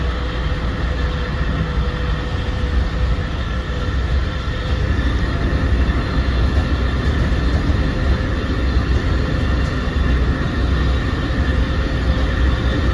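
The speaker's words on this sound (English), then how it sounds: "Nice sound effect of the M3 passing right in this little section." A Long Island Rail Road M3 commuter train passes close by, producing a steady, loud rumble and rolling rail noise that stays constant throughout with no voices.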